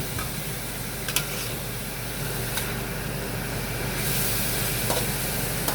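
Sliced chicken pieces sauté in a pan for arroz valenciana cooked at home, a steady close sizzle and crackle with a few sharp clinks of stirring, and no talking.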